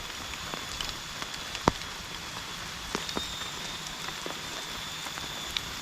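Rain falls steadily on an old cemetery in the cool Sundanese countryside of West Java. It makes a soft, even hiss with occasional louder drops striking nearby surfaces. No voices are heard.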